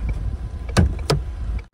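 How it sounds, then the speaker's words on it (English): A 2018 Ford Mustang EcoBoost Convertible's hood release is pulled, giving two short, sharp mechanical clicks close by over a low ambient hum, followed by a brief silence. "to open the hood,"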